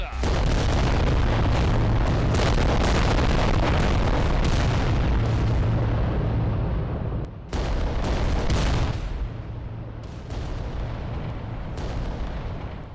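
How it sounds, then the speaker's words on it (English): Volcano cannon fire from a war titan in Adeptus Titanicus: Dominus, a dense, continuous roar of heavy booming blasts and rumble, loud and sustained, breaking off briefly and then resuming. "Okay, I tagged him a few times with the volcano cannon."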